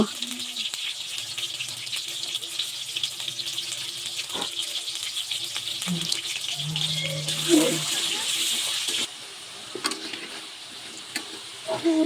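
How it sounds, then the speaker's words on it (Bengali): Potatoes stirred and fried in oil in a curry pan, giving a continuous close sizzle with scraping stir strokes and occasional clinks throughout. "দেখুন আমি সুন্দর করে নেড়ে চেড়ে আলুগুলো ভেজে নেব"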